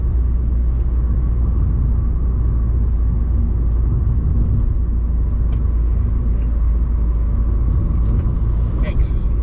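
Rover car cruising along, a steady low engine rumble and road noise filling the cabin throughout, with a faint brief whine near the end.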